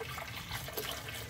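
Tap water runs steadily into a measuring cup, filling it to the four-cup mark for cooking white Mexican rice; a soft, close, continuous pour.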